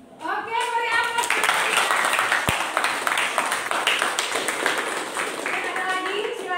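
An audience in a classroom presentation breaks into loud, steady clapping right away and keeps it going for several seconds, with children's voices mixed in over the applause.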